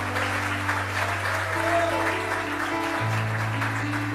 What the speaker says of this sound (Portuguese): pode aplaudir da glória.